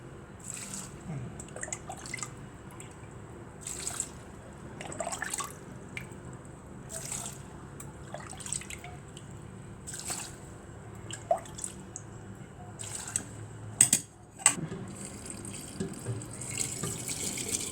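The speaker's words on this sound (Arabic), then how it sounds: "بعد ما حطيت بقى اللفت هحط الميه بتاعتي" Water poured from a tap over turnips for pickling, a running, splashing stream with repeated bursts and drips as the flow starts and stops.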